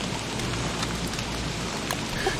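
Steady rain falls in the video game Don't Starve Together, a dense, even hiss of drops pattering across the scene with no talk over it.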